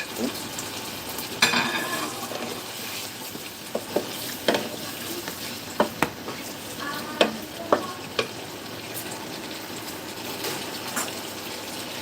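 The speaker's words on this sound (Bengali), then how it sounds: "আমি মাছগুলো এখন দিয়ে দেবো দিয়ে একসাথে একটু কষিয়ে" Hilsa fish pieces fry in a pan for mustard hilsa, a steady close sizzle broken by scattered sharp scrapes and clacks of stirring, with no voices.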